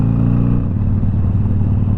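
A Harley-Davidson Iron 883 engine runs steadily on a summer ride, giving a loud, continuous low rumble with a pulsing throb. No speech is heard.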